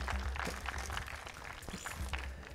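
Applause from an audience at a StarCraft II esports event, a quick patter of many hands clapping, fairly faint and brief.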